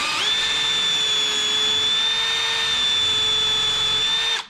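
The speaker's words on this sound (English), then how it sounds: "we're gonna take our drill, and we're gonna drill into that first hole that we marked earlier." A power drill bores the first marked hole while a chair is being built. Its motor whines steadily and loudly at close range for about four seconds without a break, then cuts off abruptly.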